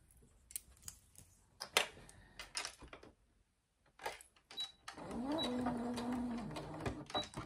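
A sewing machine topstitches a fabric pouch close to the edge. After a few taps and handling noises, the motor runs steadily and fairly loudly for the last couple of seconds.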